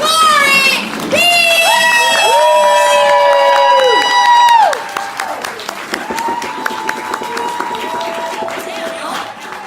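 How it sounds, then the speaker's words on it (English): A poetry slam audience erupts in loud whoops, shouts and cheering, voices ringing out together, then settles into quieter scattered clapping and crowd murmur. "Please start clapping for our Slam Jam tonight."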